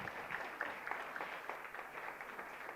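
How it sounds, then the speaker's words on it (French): An audience at the AFRIMOD 2023 fashion show finale applauds, a faint, distant wash of many clapping hands sustained evenly throughout, with no talk over it. "Vic Mac, qu'on va applaudir très fort."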